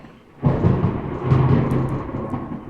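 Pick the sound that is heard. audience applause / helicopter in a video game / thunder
thunder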